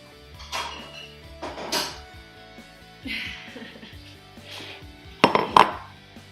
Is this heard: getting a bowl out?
yes